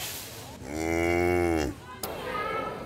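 Cattle on a village cow farm, one long drawn-out moo close by, followed by a sharp knock and low outdoor background noise.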